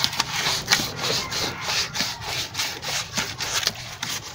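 Sandpaper rubs back and forth by hand on a plumbing float valve part, making a steady scratchy rasp in short repeated strokes at close range, with no talk over it.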